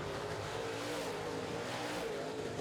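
Modified race cars roar down the front straightaway of an oval track in a continuous, steady engine drone heard at a distance, with no voices over it.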